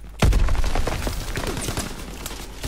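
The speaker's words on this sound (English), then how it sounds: "Throwing grease grenade!" A grease grenade goes off in a Hardpoint match of Call of Duty: WWII, a sudden loud low boom followed by a scatter of crackling, debris-like bursts that trail away.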